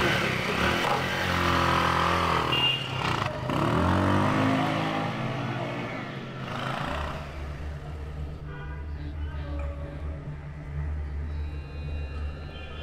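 A motorcycle engine revs loudly and close, then pulls off and drones away, its note dropping and thinning into a steadier, fainter hum by the end.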